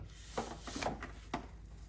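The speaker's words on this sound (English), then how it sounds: "And you hear it crunching the foam." Dry crunching and rasping, with a few sharper crackles as a bit presses into foam while installing Porsche aero wake control tabs, fairly close and quiet.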